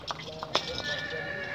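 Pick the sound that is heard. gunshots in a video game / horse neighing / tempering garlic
horse neighing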